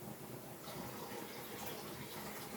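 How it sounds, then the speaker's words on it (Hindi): Drinking water pours steadily into a container at home, a soft continuous rushing stream heard close and faint. "ये गौरव का पानी रख देती हूँ भर के।"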